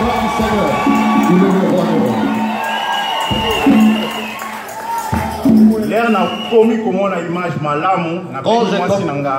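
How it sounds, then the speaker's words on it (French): A church congregation raises loud cries of joy, overlapping voices, shouts and whoops swelling and breaking in waves, with children's voices among them and a speaking voice mixed in. "Est-ce que quelqu'un peut pousser les cris de joie?"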